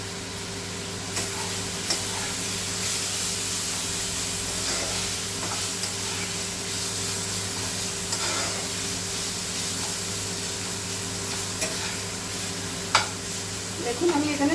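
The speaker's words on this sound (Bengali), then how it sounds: "আমি চিমনি চালিয়েছি চিমনির একটু আওয়াজ হয়তো পাওয়া যাবে" A kitchen chimney exhaust hood runs over a chicken curry being cooked, giving a steady droning fan hum with airy hiss, overlaid by soft frying sizzle and occasional utensil clinks.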